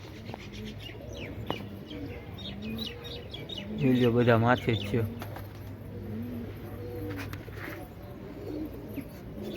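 Pigeons from a pigeon house coo and chirp around the listener, with a louder burst of rapid, flutter-like calling near the middle, while someone speaks over the birds.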